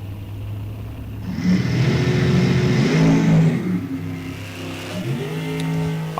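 Drag racing cars launching hard off the start line at an NHRA National Open event, a loud engine roar rising in pitch as they accelerate away, with a second car's note layered underneath.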